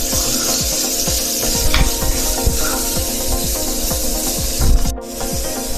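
Cabbage stirred in a pan of frying chili and ginger, with a steady broadband sizzle and repeated rhythmic scraping strokes of the spoon against the pan throughout; no talking.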